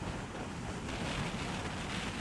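Steady, loud rushing wind roars across the microphone while riding an Arora Gemma 125 motorcycle, a broad buffeting noise without a break and no voices.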